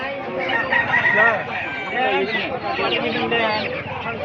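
A rooster crows amid a crowd of clucking native chickens at a poultry market in Mahadevpur, Bangladesh, with people talking nearby throughout; busy, noisy market atmosphere.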